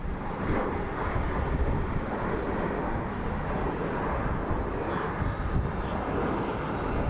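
A fixed-wing airplane landing at Phoenix Sky Harbor International Airport produces a continuous broad engine roar, loud and sustained throughout with no voices over it.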